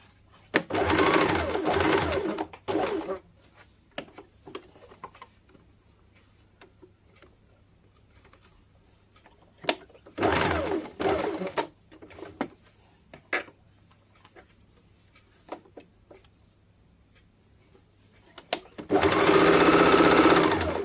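A sewing machine stitches a half-inch seam on a princess-cut blouse in several loud, rapid bursts of whirring, separated by quieter pauses with light handling clicks and rustle.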